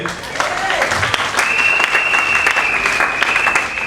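A church congregation breaks into sustained, loud applause and cheering that fills the hall, with scattered shouts and a voice rising over the clapping.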